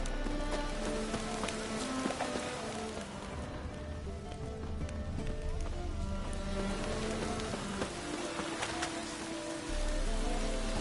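Dense, steady patter of heavy rain in The Witcher 3: Wild Hunt covers the whole stretch, with a low droning tone and occasional sharper drips underneath.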